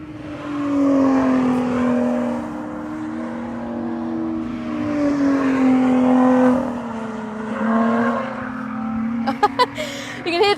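A Lotus race car engine drones loudly on a track with a rising and falling pitch as it approaches and passes, ending with sharp clicks and bursts.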